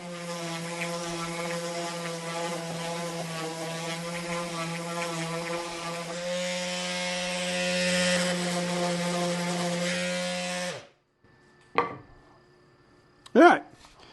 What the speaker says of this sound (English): now's the non-fun part of sanding